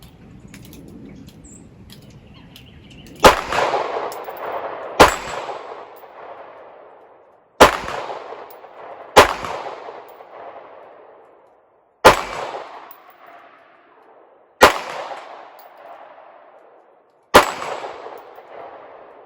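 A CZ-75B pistol fires seven sharp, loud shots at irregular intervals, each crack trailing off in a short outdoor echo, with no talking.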